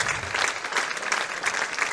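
Fans applaud a winning athlete at the SLLM 2023 Finals, a steady wash of hand clapping from a crowd at moderate distance, with no voices standing out.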